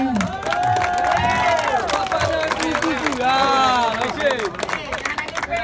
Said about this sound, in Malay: Mari tepuk tangan kembali untuk Persimal Malahayati.